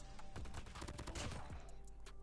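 Rapid bursts of BK57 rifle fire in the Call of Duty Mobile game, a dense string of close, loud shots across the clip with game effects beneath.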